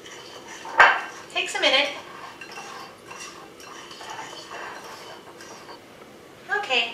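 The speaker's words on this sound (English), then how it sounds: "With a fork, you're going to blend these ingredients together until they're all coated." A fork clinks and scrapes against a dish while blending melted butter into pie crust ingredients, giving a few clear metallic taps among softer stirring, under a brief spoken remark.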